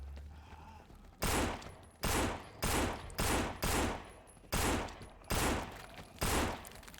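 Gunshots in the zombie game No More Room in Hell fire as eight loud, sharp reports in an uneven rhythm, each with a short decaying tail, following a quiet start.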